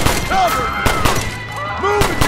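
Semi-automatic gunfire in Red Dead Redemption on PS3, a run of sharp, loud shots fired in quick pairs and singles over a busy game soundscape with faint voices mixed in.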